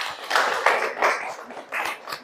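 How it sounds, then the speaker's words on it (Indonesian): A small classroom group clapping briefly for a fellow student, a short patter of hand claps in a few uneven bursts lasting about two seconds. "Tepuk tangan dong buat kawan kita."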